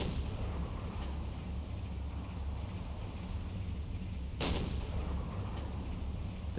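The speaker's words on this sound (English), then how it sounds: "The deck gun has always been OP in this game" Single sharp blast from a submarine deck gun firing a high-explosive shell in Silent Hunter 4, a sudden loud crack over a constant low engine and sea rumble, followed by a fainter distant report about a second later.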